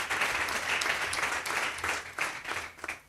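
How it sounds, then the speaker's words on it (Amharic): A church congregation breaks into sustained applause, a dense, continuous wash of many hands clapping close and loud, with brief swells and dips over a few seconds at a prophetic gathering. "አጨብጭቡ፣ ተነስና"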